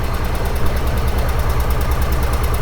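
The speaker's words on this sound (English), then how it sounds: "Sitting there idling on its own." A 1961 Ford van engine, left sitting over 30 years, idles steadily nearby with a low, even, pulsing rumble and no talking.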